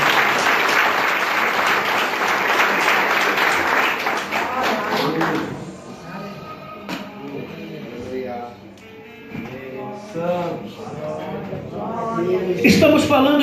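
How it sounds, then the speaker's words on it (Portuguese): A church congregation breaks into dense applause that fades after several seconds, followed by scattered claps and murmuring voices under a preacher's talk. "Uma salva de palmas para Jesus."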